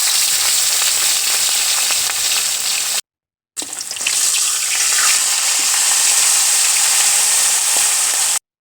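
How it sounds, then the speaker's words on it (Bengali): Fish seasoned with salt and turmeric sizzles loudly in hot oil in a pan, a steady bright crackle that breaks off briefly and then resumes with a sharper burst. "মাছ ভাজা হয়ে গেছে,"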